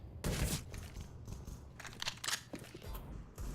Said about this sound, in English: Expected that nade to do a bit more damage.